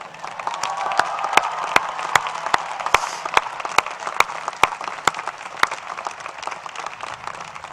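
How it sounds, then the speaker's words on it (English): A university graduation crowd applauds the parents and step-parents, broad sustained clapping from a large audience with sharp rhythmic claps standing out in a steady beat. "Can we get another rousing round of applause for the parents and step-parents who not only made this day possible,"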